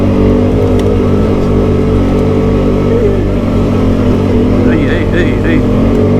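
Pickup truck on 32-inch mud tires with ELKA suspension accelerating up a hill off-road, a loud steady engine drone with rumbling tire and drivetrain noise throughout, heard from inside the cab.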